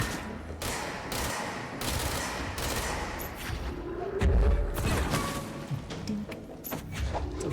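Machine guns in the action game Control fire in rapid, dense bursts, loud and close, with a heavy thudding impact partway through.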